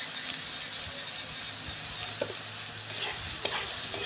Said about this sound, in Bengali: এরপর ভালো করে নেড়ে চেড়ে নিচ্ছি